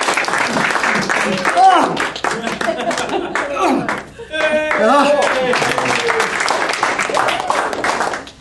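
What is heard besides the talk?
audience applause during a press-up at Toastmasters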